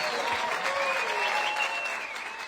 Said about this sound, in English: getting huge applause and cheers